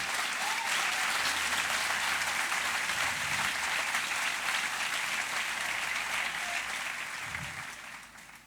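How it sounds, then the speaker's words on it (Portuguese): Loud, sustained applause from a church congregation during a pastor's sermon, filling the room steadily before tapering off near the end. "Se é para ele, aplauda mais forte"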